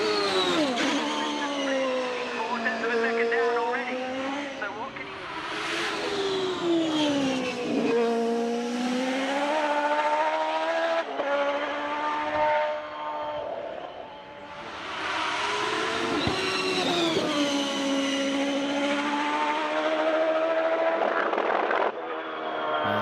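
A 1994 Penske V-8 Indy 500 race car engine, a loud, smooth high-pitched howl rising and falling as it revs through gears, with two strong surges of acceleration.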